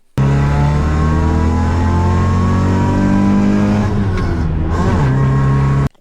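A 1995 Mitsubishi Eclipse RS with a 2-liter inline-four pulls hard through the gears, a loud close engine drone climbing in pitch, dipping at a shift near the end, then cutting off abruptly.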